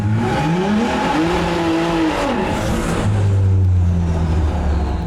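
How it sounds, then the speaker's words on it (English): A Hurricane-engine-swapped Buick Grand National loudly revs and accelerates, pitch climbing and falling through gear changes, then settles into a deep steady roar, with no talking. "We got Mikey testing the car, the first starts we've ever done in this thing."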